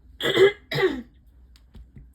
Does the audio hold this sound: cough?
yes